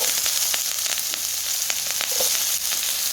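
Mustard seeds, fennel seeds and onion sizzle and crackle in hot oil while upma is made in a home kitchen, a steady close frying hiss with scattered sharp pops throughout.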